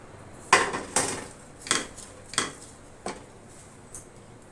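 Dry coconut roasts in a pan for groundnut ladoo while a spoon stirs it, striking the pan in a slow series of about six close metallic clinks over a faint background hum.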